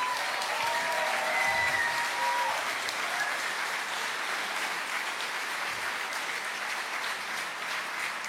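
Sustained applause from an audience at a gathering honoring people who sailed with a humanitarian flotilla, a dense wash of clapping that holds steady throughout without pause.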